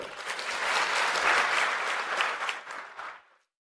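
Audience applause at a Kannada religious discourse on the Sri Srinivasa Mahatmya: a dense, steady burst of many hands clapping that swells, holds for about three seconds and then tapers quickly into silence, with no talking over it.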